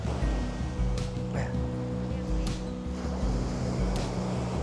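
Ocean surf washing in and receding on a black sand beach in Iceland with a low rumbling swell, steady wind-like noise throughout and a faint tonal hum underneath.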